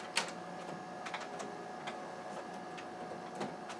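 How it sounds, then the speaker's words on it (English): A home printer runs faintly, with a low steady mechanical whir broken by soft irregular ticks and clicks as it feeds and prints, quiet and without voices. "Dude, my printer's printing."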